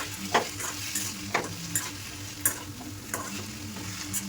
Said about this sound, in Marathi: ती कशी तेलामध्ये फ्राय करून घ्यायची.